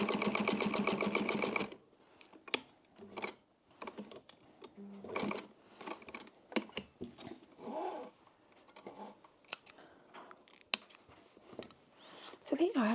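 A 70-year-old Pfaff sewing machine stitches a wallet in a loud, steady burst of under two seconds, then stops, leaving scattered clicks and handling noises.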